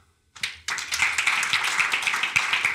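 A few hands start, then a whole conference audience breaks into steady clapping after a short pause, close and even throughout.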